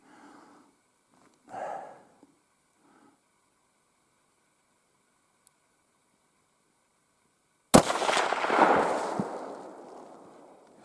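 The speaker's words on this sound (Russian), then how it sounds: "Сейчас в яблочко стрельну." A single loud rifle shot at a target on a grouse-hunting trip, a sharp crack followed by a rolling echo, preceded by a few quiet words.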